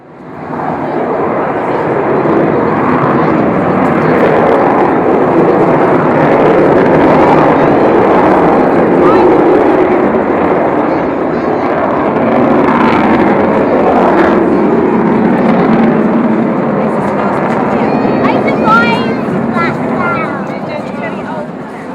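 An Avro Vulcan XH558 bomber flies at the Clacton Airshow, a loud, steady, continuous roar lasting the whole stretch with a commentator talking over it.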